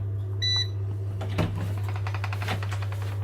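A kitchen timer gives one short electronic beep while biltong steak is being prepared, heard over a steady low hum, followed by light clattering.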